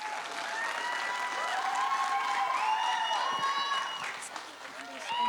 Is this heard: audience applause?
yes